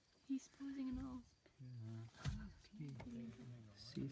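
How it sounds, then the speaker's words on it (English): A lion on a night safari in South Africa gives a few low, rough growls close by. Excited voices talk over it almost the whole time. "We actually spotted a lion."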